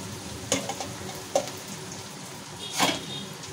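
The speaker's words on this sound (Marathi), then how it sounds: "परत याला तेलामध्ये फ्राय करून घ्यायचं" Peanuts and green chilies fry in hot oil with a steady soft sizzle, broken by a few louder crackles and pops, no voices over it.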